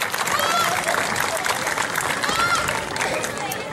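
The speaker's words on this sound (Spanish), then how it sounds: "Un aplauso para recibir al maestro Eric Ulloa." Audience applause and cheering welcome a dance teacher on stage at an evening dance presentation, a dense, steady wash of clapping and crowd noise with shrill whistles and voices mixed in.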